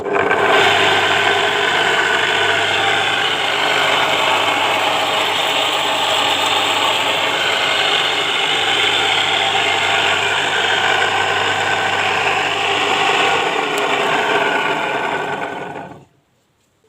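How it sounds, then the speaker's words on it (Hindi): Single-phase 2800 rpm electric motor running on a power supply, a steady whirring mechanical hum with a faint rattle, which cuts off abruptly near the end. "अब ये मोटर इस साइड में चल रही है।"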